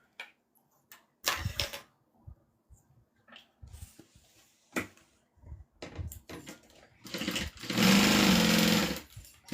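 A sewing machine stitches fabric in short bursts, with quiet pauses and handling clicks between them, ending in one longer sustained run; close and clear, with no talking.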